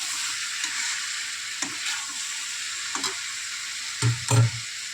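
Chicken pieces frying in a pan as a Bengali chicken kosha cooks down with spices, a steady soft sizzle with a few scraping stirs and two louder clanks near the end, no voices.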